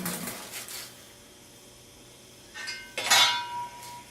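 Metal clinking from a wood stove being emptied of ashes, with a few bright clinks and scrapes early on, a quiet pause, then a louder cluster of sharp metallic clinks near the end.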